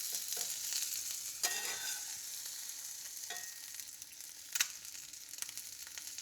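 Eggs folded into taco shapes fry in a pan for breakfast tacos, a quiet continuous crackling sizzle with a few louder scraping spatula touches and no voices.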